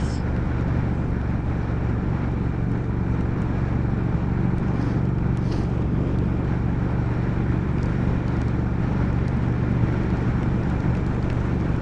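A 2019 Triumph Speed Twin motorcycle rumbles steadily on a test ride, a constant low engine drone blended with wind rush, with no clear revving or gear changes.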